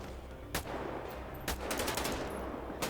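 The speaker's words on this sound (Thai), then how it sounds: "ปืนพกอันนี้ เฮ้ยเดี๋ยวยิงช่วยก่อน" Pistol fire in a GTA V zombie mod, a few sharp single shots spaced irregularly over a steady background game noise, fairly distinct but not loud.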